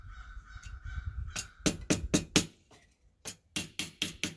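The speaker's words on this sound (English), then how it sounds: "You hear the crows in the background?" Harsh crow caws ring out near a forge in two quick runs of four or five calls each, fairly close, over a low background hum.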